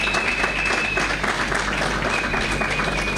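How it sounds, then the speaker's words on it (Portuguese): Audience applause at a Mozambican political gathering, a dense continuous patter of many hands clapping, steady and fairly loud, with a faint tone running through part of it. "Também uma salva de palmas para eles"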